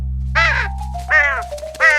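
A cartoon crow caws in three harsh, nasal bursts, loud and close, over a low steady hum, with no other voices.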